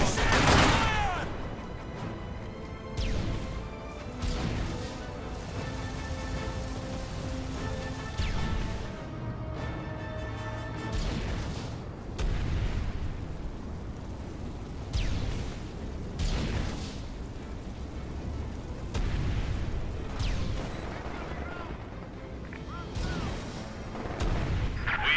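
Naval ship artillery fire in Company of Heroes 2, a Soviet campaign mission, with repeated heavy booms and crackling blasts over a dense battle soundscape, punctuated by sharp impacts throughout, layered with music and ongoing combat noise.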